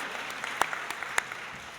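A short burst of audience applause at a panel conversation, scattered hand claps with a few crisp individual claps standing out over a soft background wash, moderately distant and fairly quiet.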